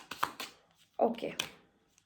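Tarot cards being shuffled and drawn for a pick-a-card reading: a few short papery riffles and flicks, close and soft, with brief pauses between bursts.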